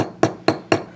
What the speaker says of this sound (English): I'll start hammering these edges around